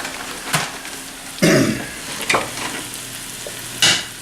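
Wooden spoon stirring frying Granny Smith apples in a non-stick pan, a soft steady sizzle broken by several scraping, clattering stirs, close up and without voices.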